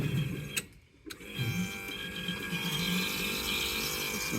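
A 1995 Kawasaki Mule KAF620A hydraulic system cycles with leftover water in the fluid, giving a steady mechanical whine and hum with a brief pause and a couple of sharp clicks early on.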